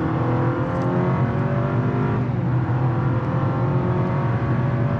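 A 2023 Honda CR-V Hybrid in normal mode accelerates at full throttle from a standstill, its engine droning loudly and steadily with a rising pitch, close and continuous with no talking.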